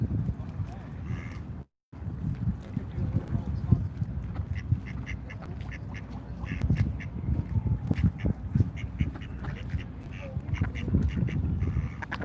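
A duck quacks repeatedly outdoors in Washington DC during a street protest, the rough calls scattered over wind buffeting and crowd noise, with a brief dropout early on and people talking nearby.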